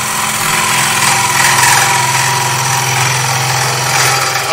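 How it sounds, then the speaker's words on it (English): A wood lathe turns a plate while a long-handled gouge cuts across it, giving a steady, continuous whirring and scraping hum at even loudness throughout, with no talking. "The reason I'm using a long handle gouge is as I come over the tool rest a bit here,"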